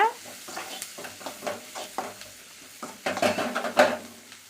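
Onions sizzle and crackle in a hot pan, with intermittent scraping and stirring clatter of a utensil against the pan, no voices.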